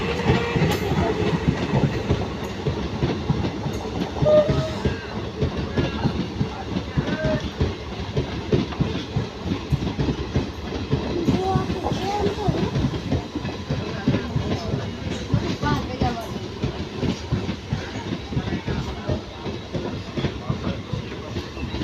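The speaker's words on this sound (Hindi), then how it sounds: "WDM 3D लोकोमोटिव के साथ कोटा गांधीग्राम पैसेंजर ने ढोलका में एंटर करते हुई" A Kota–Gandhigram passenger train hauled by a WDM 3D diesel locomotive rolls into Dholka railway station, a steady close rumble of wheels and clickety-clack over rail joints lasting throughout, with faint voices mixed in.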